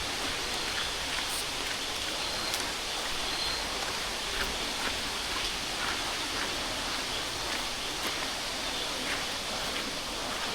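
Tumagiti Falls in Camarines Sur pours heavily, a steady dense roar of rushing water filling the air without pause, heard from nearby.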